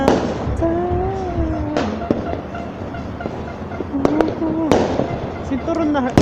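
Judas belt string firecrackers crackle and pop in dense bursts during a New Year celebration, with sharp loud reports scattered over a steady crackle and people talking nearby.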